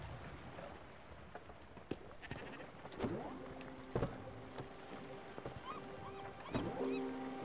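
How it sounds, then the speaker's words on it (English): Sheep bleating in the video game Spiritfarer, a few short wavering bleats over quiet ambient game music, with scattered soft clicks and taps in between, faint overall. "What the hell is that sheep doing?"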